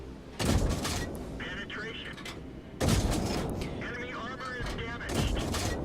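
Tank cannon fire from an S35 739 (f) in World of Tanks, two heavy booming shots a couple of seconds apart with a third near the end, each followed by rumbling decay while a commentator talks.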